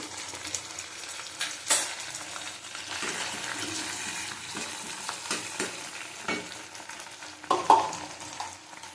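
Pabda fish curry with aubergine and potato, seasoned with turmeric, Kashmiri chili powder, fenugreek and nigella, sizzles steadily in a pan while being stirred, with a few sharper scraping stir strokes standing out near and alone.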